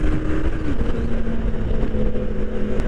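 A Yamaha MT-09 motorcycle engine rumbles steadily with a low, throaty exhaust drone throughout, close by, with a faint whine running above it.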